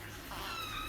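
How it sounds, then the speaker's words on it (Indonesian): A house cat meows in a drawn-out, whiny call that rises through a short stretch, heard fairly close over a steady low background hum. "Nanti masuk kamar lagi kau ngeong-ngeong lagi minta apa?"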